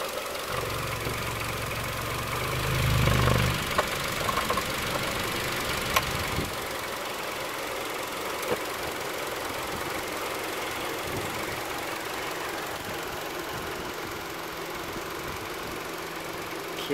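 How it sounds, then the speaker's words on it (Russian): A silver 2011 Kia K5 in good condition idles steadily, a low, even engine hum with a brief louder surge near the start and faint clicks, quiet and close with no talk. "Двигатель работает исправно."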